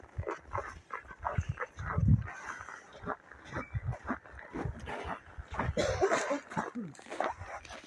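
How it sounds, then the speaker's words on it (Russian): A young puppy around eight months old yips and whimpers in a string of short, irregular bursts, close by and fairly quiet, with one louder yelp partway through. "О, щенок. Щенок."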